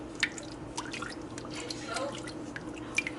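Chicken stock is stirred in a warming pot, making wet sloshing, soft scraping and small drip-like splashes that are close, moderate and irregular throughout.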